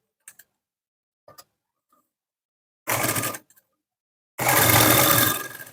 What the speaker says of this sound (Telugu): అదే స్టిచ్ మీద మళ్ళీ పైపింగ్ థ్రెడ్ పక్కనే ఒక స్టిచ్ వేసేసుకోవాలి ఓన్లీ లైనింగ్ క్లాత్ పైన